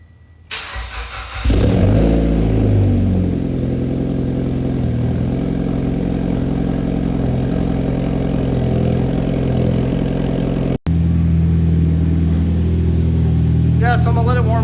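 A Mitsubishi Evo X with an erratic idle starts up and settles into a steady, close idle while warming, its low engine drone continuous for most of the stretch before a brief cut and resumption.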